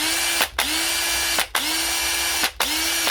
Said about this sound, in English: I'll test it on a drill.